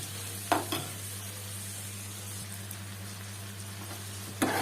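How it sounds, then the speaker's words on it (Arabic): Food sautéing in ghee, suet and oil, a faint steady sizzle in a pan with a couple of soft clunks from stirring near the start and end. "نديله تشويحه كده في السمنه بتاعتنا وفي الليه بقى وفي الزيت"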